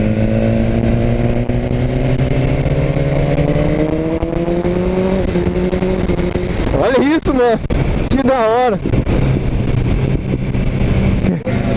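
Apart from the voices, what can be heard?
BMW S1000 R motorcycle engine during test ride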